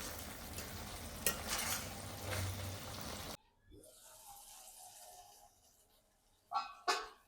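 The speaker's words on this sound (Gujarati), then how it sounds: "આ રીતે વચ્ચે વચ્ચે આપણે શાકને હલાવતા રહેવાનું છે।" A spatula stirs guvar cluster bean curry in a pan, making faint scraping and a soft sizzle, with a brief break before a few louder scrapes near the end.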